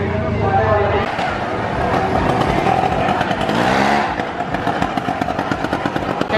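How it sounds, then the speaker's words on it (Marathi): A motorcycle engine roars and revs continuously inside a well-of-death show at the Nirmal Jatra fair in Vasai, loud and close, with crowd voices and talk mixed in throughout. "बाईक घेऊन येतो तिकडून आणि आता गाडी वगैरे फिरेल."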